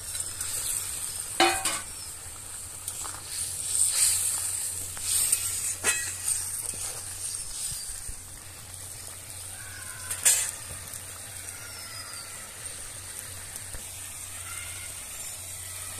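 Hilsa fish pieces fry and sizzle steadily in a pan, a continuous hiss with a few sharper pops and crackles, close and alone with no talk.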